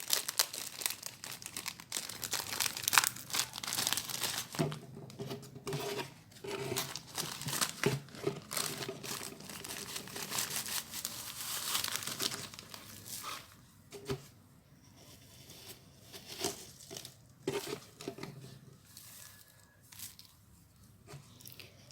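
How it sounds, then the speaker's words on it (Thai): Shredded tobacco from two packets is poured into a 1.5-litre plastic drinking-water bottle, making steady dry crinkling and rustling of the packets and plastic throughout, close and continuous with no talk. "ก็จะเอายาเส้นเนี่ยค่ะ ใส่ลงไปในขวดทั้งหมดก่อนเลย"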